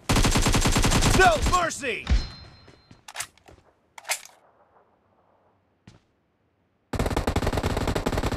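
Automatic gunfire in the BGMI mobile battle royale game: loud, rapid bursts fill the opening two seconds, fade through a quiet stretch, then resume dense and close at the end, with a short shouted in-game voice line.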